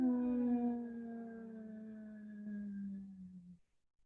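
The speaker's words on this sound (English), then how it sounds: "Long humming HM." During a power vinyasa yoga session, a single long humming breath holds one steady voiced tone for about three and a half seconds, sinking slightly in pitch before fading out, close and alone.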